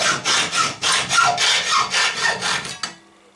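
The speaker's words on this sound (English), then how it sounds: "now this steel tube, let's cut it" A steel tube is cut with a hand saw in about ten quick, steady back-and-forth rasping strokes, loud and close, before the sound stops abruptly.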